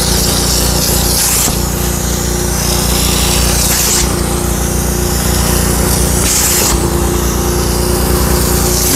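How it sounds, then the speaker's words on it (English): A wet upholstery extractor works over Toyota cloth car seats, a loud, close, continuous vacuum-motor whine with periodic hissing surges of suction as passes are made. "So the first pass is usually wet with the extraction."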